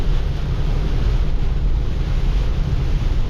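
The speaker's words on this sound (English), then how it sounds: "The water's busting over the side." Heavy surf from a cyclone pounds and churns over a rock wall at a beach in a steady roar, with strong wind buffeting the microphone throughout and no clear breaks.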